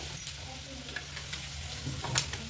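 Mutton curry bubbles and simmers in a pot with a soft, steady sizzle over a low hum, a few brief clinks and spatters rising above it, close and fairly quiet.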